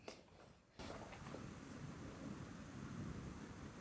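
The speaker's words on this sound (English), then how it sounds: "I don't know if you could hear it, but it's thundering" Thunder rolls outside during a stormy spell, a low continuous rumble that starts after a brief quieter moment and carries on at a faint, steady level with no voices.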